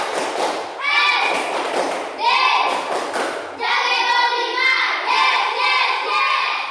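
Schoolchildren in a classroom do the 'tepuk semangat' clapping chant, clapping in rhythm and shouting the words together. The loud bursts of clapping and voices come in several sections one after another.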